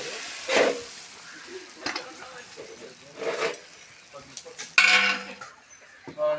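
Mutton simmers down in a pot for biryani, with faint bubbling and occasional scraping stirs and clinks of a spoon against the vessel, one sharper metallic knock near the end.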